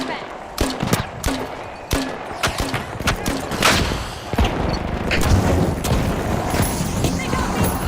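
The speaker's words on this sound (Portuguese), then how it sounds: "Using a flashbang." Repeated gunfire and sharp bursts in a multiplayer shooter, one of them a flashbang grenade detonating, as a dense run of loud cracks and booms with an uneven rhythm.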